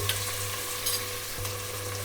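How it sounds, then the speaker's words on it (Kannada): Steady loud sizzle of tempering spices crackling in hot oil on full high flame, a continuous frying hiss with occasional stirring, no voices. "ಇಲ್ಲಿ ಫುಲ್ ಹೈ ಫ್ಲೇಮ್ ಒಳಗೆ ಒಗ್ಗರಣೆ ಹಾಕ್ಬೇಕು"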